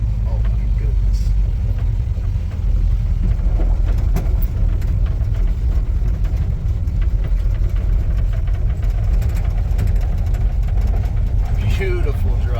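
A 1947 Ford pickup truck engine running steadily up close, a low rumbling idle that stays constant throughout with a few faint background sounds.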